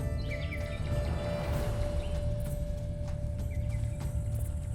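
Horse hooves clip-clop in The Witcher 3, a light walking rhythm under a steady game ambience with a sustained tone and a few scattered bird chirps.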